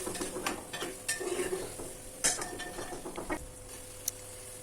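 A spice paste with tomato fries in a pan for spicy beef bhuna, giving a soft, low sizzle under irregular clinks and scrapes of a spoon stirring it close by; quiet overall, with no talking.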